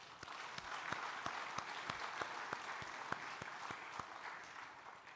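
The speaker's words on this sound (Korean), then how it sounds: "박수 한번 뜨겁게 다시 한번 하십시오." A church congregation at a Sunday daytime service gives warm applause. The crisp, rhythmic claps ring out clearly and evenly over a continuous wash of hands for the whole stretch.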